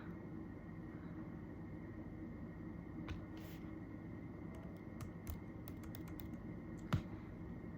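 Faint keystrokes sound on a computer keyboard while a Laravel command is entered, a few scattered clicks and one sharper press near the end, over a quiet hum of background noise.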